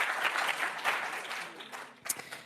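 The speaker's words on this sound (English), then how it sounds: "we should have an applause" Audience applause at a research papers conference session, a dense wash of many hands clapping that thins toward the end with a few louder claps near the close.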